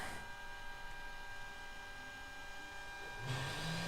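A Ka-50 helicopter's auxiliary power unit starts up in a flight simulator, giving a steady electrical hum with fixed whining tones. The sound shifts and grows slightly louder near the end, with no one talking.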